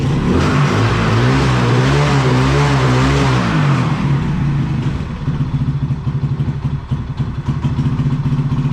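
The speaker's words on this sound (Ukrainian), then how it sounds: "Просинається мопед після зимової сплячки." A small moped engine, run for the first time after winter, revs up and down unevenly for a few seconds, then settles into a steady, close, rattling idle.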